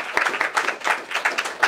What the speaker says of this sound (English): But applause to the panelist.